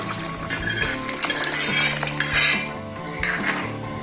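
White pumpkin sambar being stirred in a cooking pot, with a utensil clinking and scraping against metal in a steady, close rhythm, alongside a soft liquid bubbling; no voices.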